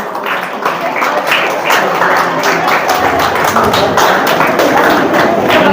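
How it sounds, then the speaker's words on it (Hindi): Applause at a school prize distribution for a junior-group second-place winner: dense, sustained clapping from a crowd, steady and fairly loud throughout, with no pauses. "जोरदार तालियां अंश के लिए भी।"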